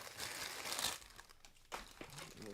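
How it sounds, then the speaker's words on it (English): A small plastic bag crinkles and rustles close by while toy mod work is prepared, a dense crackly burst for about a second, then quieter handling and a second crinkly flurry. "we'll get ourselves a little plastic bag"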